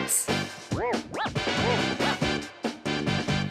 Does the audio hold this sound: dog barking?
yes